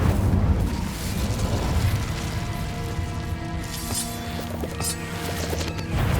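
A fiery Incendio spell blast in Hogwarts Legacy, a dense roaring burst with crackling, rumbling layers of game effects and a ringing tonal shimmer, loud and continuous over about six seconds.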